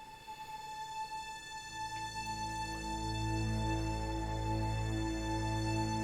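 Orchestral strings from the ProjectSAM Orchestral Essentials library swell slowly: a legato cello line with muted string sections, a sustained low drone rising beneath a soft, held chord, alone without talk.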